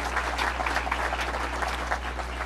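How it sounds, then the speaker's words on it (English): An audience at a hospital announcement claps steadily together, a dense wash of applause that holds evenly for the whole stretch, with no voices over it. "let's give him a round of applause"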